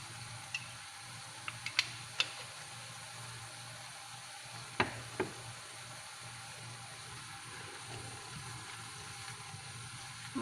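Squid and green beans stir-frying in sesame oil, a soft steady sizzle with a few sharp ticks and pops of spatula on pan, alone without voices.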